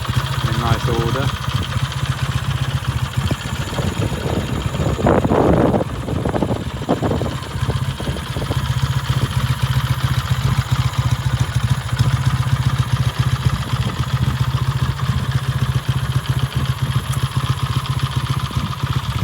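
A 1953 BSA A10 Plunger Golden Flash 650cc motorcycle idles steadily outdoors in the countryside, its even mid-pitched engine rumble continuing without a break.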